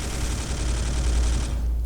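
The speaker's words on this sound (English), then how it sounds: "I'm going to shoot at this guy." Gunfire from shooting at an enemy in the Space Hulk video game, a loud continuous burst of rapid shots that cuts off abruptly near the end.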